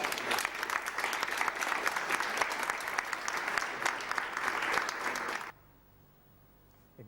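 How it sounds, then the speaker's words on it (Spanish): Audience at a tribute event breaks into strong, sustained applause for several seconds, then cuts off abruptly into near silence. "a Miguel, a Matías y a Tania, yo les quiero pedir un fuerte abrazo, porque un fuerte aplauso"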